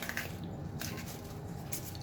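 A knife cuts bell peppers into small pieces for a Nigerian ayamase stew, producing a couple of faint, soft, wet crunches against a quiet kitchen background.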